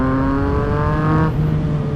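A Yamaha MT-09 motorcycle with a Kelpie full-system aftermarket exhaust burbling as the throttle rolls off, a loud steady low engine drone with a pitch drop partway through, close and alone.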